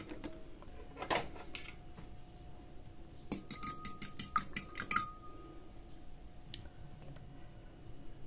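Eggs for a zucchini and meat casserole topping being whisked in a bowl, giving a quick burst of metal-on-bowl clinks and taps partway through, with sparser knocks before and after against a quiet kitchen background.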